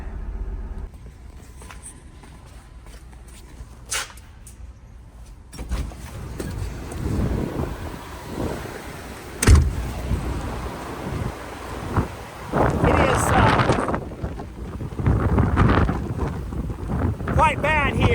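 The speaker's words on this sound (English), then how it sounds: "blowing, swirling snow to about no visibility" Strong winter wind whips swirling snow across open Nebraska farmland in sub-zero cold, roaring and buffeting the microphone in uneven gusts with low rumbling surges and brief thumps, while someone talks now and then.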